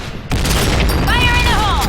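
A grenade explodes in the Point Blank shooter game, a sudden loud blast that rolls into a sustained roaring rumble, with a high voice-like tone wavering over the tail.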